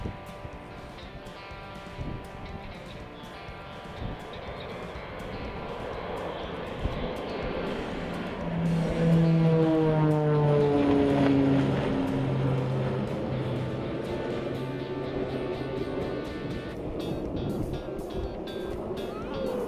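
A de Havilland Caribou propeller airplane flies in low for a supply drop, its engine drone swelling from a distant hum to a loud, close pass and then fading, with faint radio chatter underneath.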